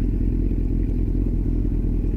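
A motorcycle engine idles steadily at a traffic light with a low, even rumble, holding at rest without revving.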